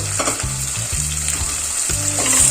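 Chopped onion and tomato sizzle loudly in a hot pan, with steady frying hiss and a few low knocks of stirring, close and alone without voices.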